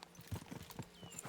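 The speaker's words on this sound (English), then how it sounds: "We should spur the horses on." Horses galloping in Kingdom Come: Deliverance II, a quick run of hoof clip-clops, faint and brief.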